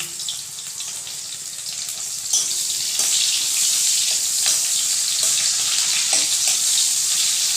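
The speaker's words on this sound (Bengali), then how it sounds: "আলুটা একটু পাঁচফোড়ন দিয়ে দিলাম তেলে একটু তেজপাতা আর পেঁয়াজ কুচি" Panch phoron, bay leaf and chopped onion frying in hot oil in a pan, a loud continuous sizzle that steps up in intensity partway through, with occasional clinks and stirring.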